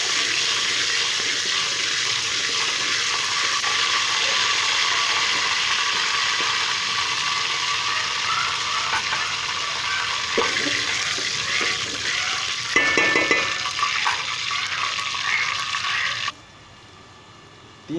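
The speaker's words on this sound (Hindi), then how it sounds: "मैंने ज़ीरा जैसे मेरा फ्राई हुआ है मैंने इसमें 3 गिलास पानी शामिल कर दिए" Three glasses of water are poured into a pot of fried cumin while making cumin rice, a steady, loud rushing splash that continues for about sixteen seconds before stopping abruptly.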